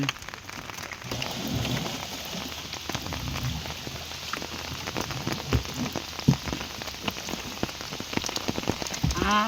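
Rain falls steadily outdoors in a dense, even hiss of drops, with sharper close patters striking a surface, continuous throughout with no talk.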